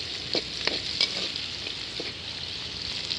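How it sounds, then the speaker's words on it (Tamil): Onions sauté in a pan for a village-style snail curry, giving a constant soft sizzle punctuated by several quick stirring scrapes at close range. "நல்லா பொன்னிறமாக வர வரை வெங்காயத்தை வதக்கணும்"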